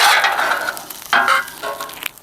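Onions sizzle on a skillet for a Cuban steak sandwich, a close, bright crackling hiss that swells in bursts as they are moved around, with no talking.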